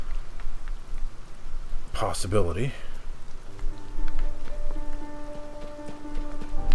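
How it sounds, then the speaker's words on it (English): Steady rain in the video game The Legend of Zelda: Tears of the Kingdom, an even soft hiss throughout, briefly under someone talking, then joined by sustained musical tones. "It's raining, so climbing the wall isn't exactly a"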